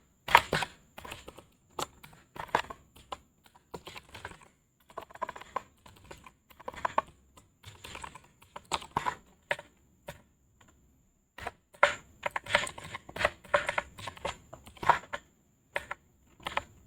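Typing on a laptop computer keyboard, close and crisp, with quick bursts of key clicks separated by short pauses and no talking.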